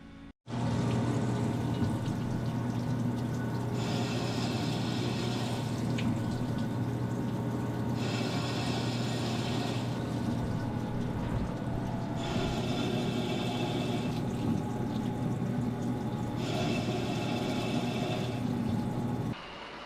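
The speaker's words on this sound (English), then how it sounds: "So here I'm getting the barrel set up so we can go ahead and cut the muzzle threads and crown" A lathe machines the muzzle threads of a custom M40A5 rifle barrel, giving a steady motor hum with cutting noise that swells and fades in regular passes.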